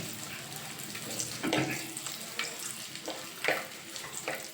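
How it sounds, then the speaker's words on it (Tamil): Dried red chillies and curry leaves being stirred and fried in a pan for a chicken uppu curry. A soft, low sizzle is broken by intermittent scraping and stirring noises. "இந்த மிளகாய் வந்து நல்லா செவக்கிற மாதிரி நல்லா கிண்டி விட்டே இருங்க."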